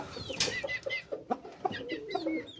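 Several Aseel chickens cluck and chirp close by in short, overlapping calls, a busy flock sound with no talking.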